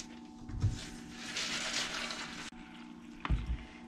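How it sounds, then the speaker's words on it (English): Water runs and pours into a container of dry black beans, a steady splashing fill broken by a brief pause and a few knocks near the end. "And then I'm gonna cover this with water."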